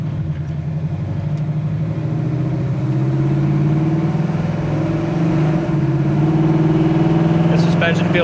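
A 1971 Chevrolet Nova with a lopey cam and dual exhaust idles low and steady, its deep uneven rumble filling the whole stretch up close, with brief higher noise near the end.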